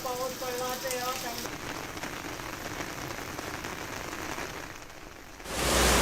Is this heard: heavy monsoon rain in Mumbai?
yes